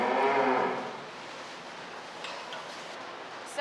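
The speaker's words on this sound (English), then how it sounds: "She is a 5-year-old Holstein cow" A five-year-old Holstein cow moos loudly and close by in a public milking parlor at the Minnesota State Fair, one drawn-out call at the start that fades into quieter room noise.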